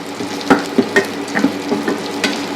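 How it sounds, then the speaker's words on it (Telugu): Ivy gourd and onion sizzle steadily in a pan, with a handful of sharp spatula scrapes and clicks from stirring breaking through the continuous close frying hiss. "దోరగా ఇలా వేసి వేపించుకోవాలి"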